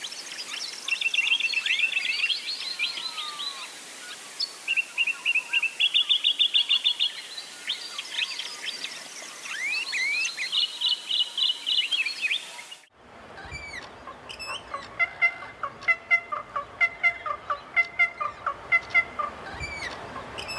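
Streaked inland Australian bird from Burra Sanctuary calling in the open, with a loud run of varied whistles and harsh chattering notes, then after a cut a rapid, rhythmic series of sharp, repeated phrases.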